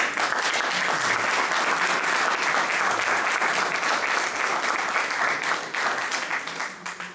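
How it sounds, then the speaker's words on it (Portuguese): Audience applause at a Cape Verdean community gathering in Oeiras, with steady, dense clapping from a sizable crowd holding loud and even for about seven seconds before easing slightly at the end. "a quem peço uma salva de palmas"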